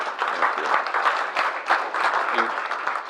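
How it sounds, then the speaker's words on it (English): A conference audience welcomes speakers onto the stage with lively applause, individual claps popping out of a dense, moderately loud wash that swells and dips slightly over a few seconds. "Can we please welcome them to the stage with a big round of applause?"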